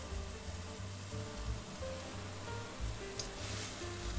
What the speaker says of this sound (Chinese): 就这样开着盖儿煮8分钟，千万不要盖上锅盖